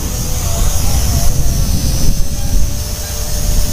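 Visuo XS812 GPS drone motors whine steadily at full throttle, a loud continuous high-pitched buzz with a sustained tone that stays constant throughout.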